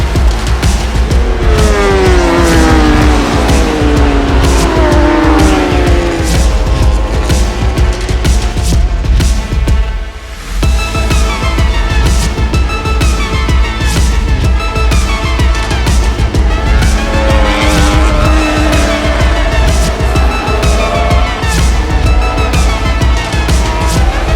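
A pack of racing motorcycles on the grid held at their rev limiters, loud buzzing engines stuttering and wailing together at close range, continuous for the whole stretch.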